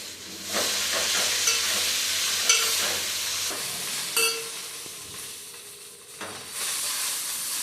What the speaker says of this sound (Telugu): పుదీనా వేసేసుకున్నాము. ఇది ఫ్రై అవ్వడానికి టైం పడుతుంది